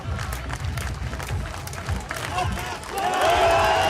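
Crowd at a UCI Trials World Cup superfinal in Aalter, cheering and clapping that swells louder toward the end as a rider attempts a high obstacle, with a commentator talking over it.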